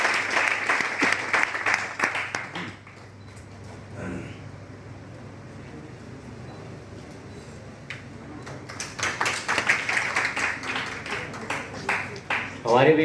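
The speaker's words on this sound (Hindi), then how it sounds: "इनके लिए जोरदार तालियां हो।" An audience at a college speakers' event in Bihar bursts into loud applause, which fades to a quieter murmuring lull and then swells again into a second strong round of clapping.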